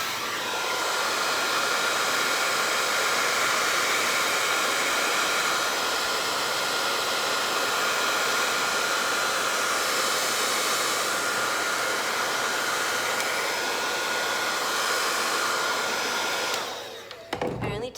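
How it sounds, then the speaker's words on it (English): Hair dryer blasting continuously to heat and soften flexible wood moulding for an ornamental sign, a steady loud close whoosh with no pauses, cutting off at the very end. "that's when I use the hairdryer"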